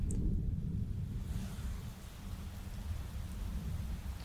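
Heavy rain pours steadily in the Stillwater video game, and a deep rumble of thunder rolls underneath throughout, loud and continuous with no voices.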